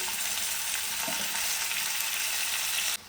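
Tomatoes hitting frying onions for a baby corn masala curry give a steady, bright sizzle with a soft stir partway through; the hiss cuts off sharply near the end.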